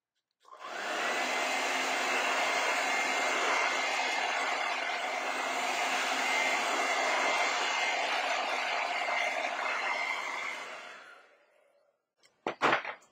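A hair dryer blowing to dry wet acrylic paint on a fantasy painting, a loud steady roar that runs for about ten seconds and then spins down, followed by a couple of brief handling knocks.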